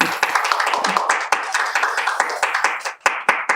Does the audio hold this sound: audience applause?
yes